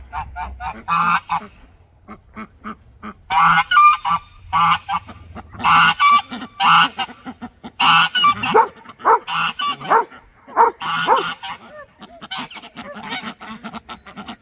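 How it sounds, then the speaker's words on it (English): Geese honk loudly and repeatedly in quick irregular bursts, close by, with a few barking-like calls mixed in. "Now that's a goose."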